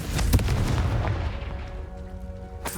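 A Confringo spell in Hogwarts Legacy bursts with a sharp, booming blast near the start, followed by a fading rumble and ringing magical tones, ending with another brief pop.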